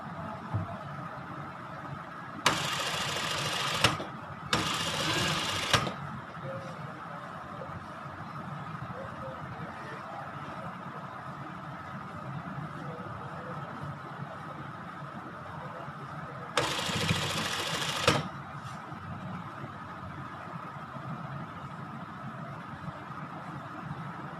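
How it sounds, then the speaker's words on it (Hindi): A sewing machine stitching fabric for a baby frock gives three loud, close whirring bursts of a few seconds each over a quieter hum of the room. "अब हम ऊपर वाली साइड पे करके मैं इसकी सिलाई कंप्लीट कर लूँगी"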